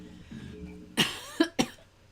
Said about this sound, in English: I'm talking, so I gotta start coughing